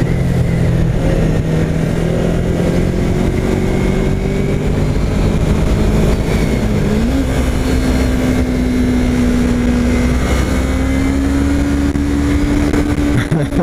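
A Yamaha R3 sport motorcycle engine drones steadily and loudly throughout at Interlagos, its pitch rising and shifting as it accelerates, with wind rushing past.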